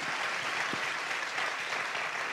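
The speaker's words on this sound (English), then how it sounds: "Loud round of applause for that." A live audience at a gathering with vocalist Kaushiki Chakraborty and Shankar Mahadevan breaks into a loud, sustained round of applause that fills the space evenly from start to finish.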